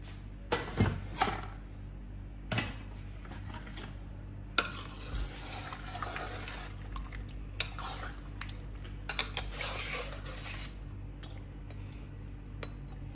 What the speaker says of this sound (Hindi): इसको हम एक दफा हिला के देख लेते हैं